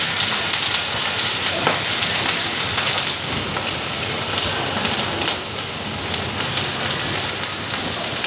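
Onion frying in a pan gives a dense, steady sizzle that keeps an even loudness throughout and carries no speech.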